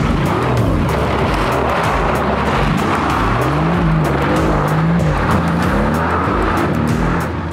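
A high-powered car, around 900 horsepower, doing a hard burnout launch: a loud, sustained engine roar with rising and falling revs and continuous tire squeal, close by for the full length.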